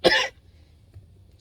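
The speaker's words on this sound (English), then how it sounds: "Sorry, I have this cough I can't get rid of from being sick." A single short, sharp cough from a woman who has been sick, close and fairly loud, followed by near silence.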